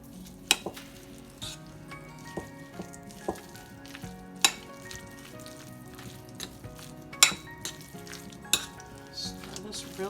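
A spoon stirs a chicken and dressing mixture with mayo and green onions in a pan, producing irregular sharp clinks and scrapes against the metal over a soft sizzle, close and without voices.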